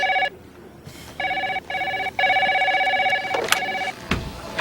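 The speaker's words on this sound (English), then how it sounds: "And don't answer that phone." A telephone rings in an office, its electronic ring coming in repeated bursts with short gaps between them, clear and fairly close, with faint room noise underneath.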